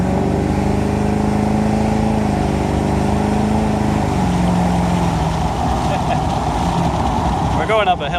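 An LB7 Duramax diesel truck, running a tune, accelerates up a hill with a steady, loud low engine drone that lasts throughout. Pitch shifts slightly partway through, and a voice speaks over it.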